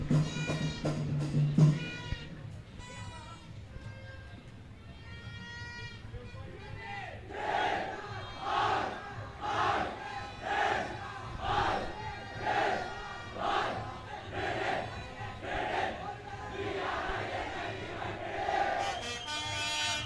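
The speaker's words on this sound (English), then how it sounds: "the cheer here at the St. Anthony's, at the Katukasura Oval, is absolutely insane" A large school crowd at the St. Anthony's versus Trinity College cricket match on a stadium oval chants and cheers loudly in rhythmic pulses, swelling into repeated unison bursts.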